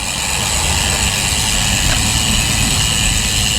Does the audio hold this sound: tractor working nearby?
yes